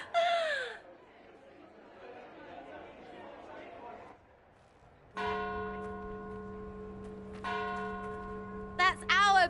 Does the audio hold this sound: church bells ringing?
yes